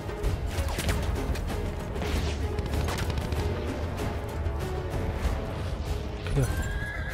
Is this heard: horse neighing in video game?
yes